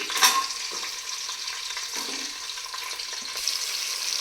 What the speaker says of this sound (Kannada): 1 ನಿಮಿಷ ಈರುಳ್ಳಿ ಬೇಯಿಸಬೇಕು.